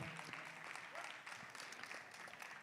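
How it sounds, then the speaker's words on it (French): Faint, distant applause from a crowd during a prize-giving ceremony at the Menton Tattoo Expo 2024, a soft continuous patter of many hands with scattered sharper claps and murmuring voices underneath. "Oui, on peut les applaudir bien fort car grand travail"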